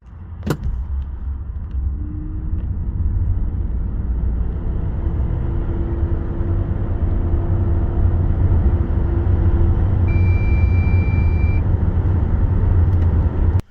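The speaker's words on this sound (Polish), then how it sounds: "popatrzcie na przyspieszenie do setki" A Ford E-Transit L3H2 electric van accelerates hard to 100 km/h, a sustained road and tire rumble with a faint rising motor whine, heard from inside the cabin with no talk.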